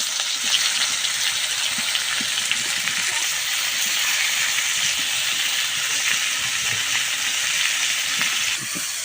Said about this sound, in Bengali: মাছ পাচার এই তেলের ভিতরেই ফুলকপিগুলো ভেজে নিব